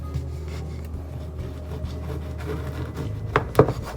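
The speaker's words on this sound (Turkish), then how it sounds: "Bizden bir dilim ekmek keseceğim." A knife slices a loaf of bread with rough, scraping sawing strokes, faint at first and then a few louder crunchy cuts near the end, close up with no voices.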